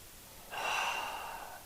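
A slow, deep breath during a veteran and first responder yoga stretch, a single soft airy exhale that swells and then fades, close and fairly quiet, with no talking.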